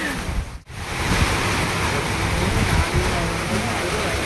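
Heavy rain pours down in Kurnool as a dense, steady roar of broadband noise, broken by a brief dip near the start.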